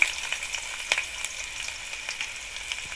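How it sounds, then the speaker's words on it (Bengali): Chopped onion sizzling steadily in hot mustard oil, a dense crackling hiss with small pops and occasional spatula scrapes, close and without voices. "এর মধ্যে আমি এবার সর্ষের তেল দিয়ে দেবো তেলের মধ্যে আমি পেঁয়াজ কুচি দিয়ে দিলাম"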